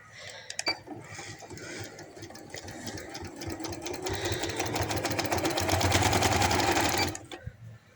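A sewing machine stitches a handkerchief baby frock, its rapid mechanical whir running steadily and loudly for about seven seconds, building slightly before stopping, with a couple of faint clicks around it.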